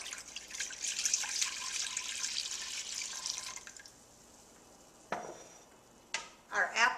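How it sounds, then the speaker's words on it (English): Vegetable broth is poured into a pot of cooked-down soup base, a soft splashing, trickling stream lasting a few seconds before tapering off, followed by a few isolated clunks and drips. "our next step here is to add the 4 cups of vegetable broth"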